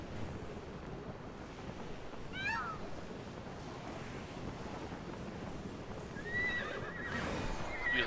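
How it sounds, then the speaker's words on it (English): Horses in the video game Immortals Fenyx Rising neigh and whinny, one short whinny early and a louder one near the end, over a steady wind-like ambient bed. "Excuse me, horses."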